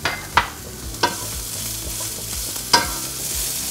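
Vegetables for a salmon pesto pasta cook in a pan with a steady sizzle, while a utensil stirs them with a few sharp scrapes and clacks against the pan, close up and with nobody speaking.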